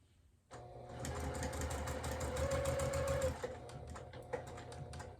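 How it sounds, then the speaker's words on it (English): A sewing machine stitches two layers of flannel for a burp cloth at about a 2.5 stitch length, starting abruptly with a fast steady motor whir and needle chatter, close and clear, then slowing slightly toward the end. "I will just go ahead and start sewing and back stitch"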